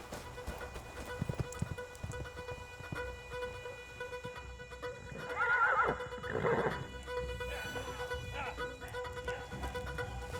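Horses whinny and neigh loudly amid clip-clopping hooves as riders set off in an action western, with shouting voices and a background score mixed in.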